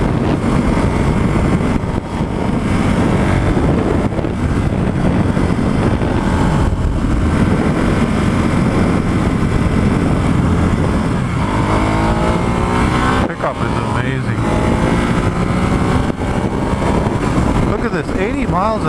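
A Ducati Hypermotard motorcycle cruising at about 80 mph near Concord, California gives off a loud, steady engine and road roar with rushing wind throughout. A person talks over it.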